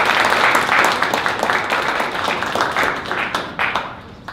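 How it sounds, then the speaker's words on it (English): Applause from a 1 Million Cups Dallas startup-pitch audience: dense, loud, sustained clapping from many hands that thins slightly toward the end, with no voices over it. "Let's give another round of applause."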